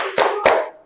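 Two sharp, close claps from a classroom of students clapping hands together in rhythm, evenly spaced about a quarter second apart.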